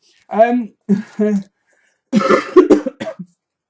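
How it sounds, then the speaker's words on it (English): A few harsh coughs, close and loud, in short bursts separated by brief pauses. "sorry you guys, I've got a right nasty cough"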